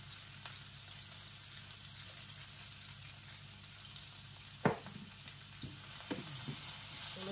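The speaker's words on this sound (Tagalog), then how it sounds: "Fry lang natin ito hanggang maluluto" Vegetables, bitter gourd and shrimp stir-frying in a pan, a steady close sizzle with a few sharp clinks and scrapes of stirring.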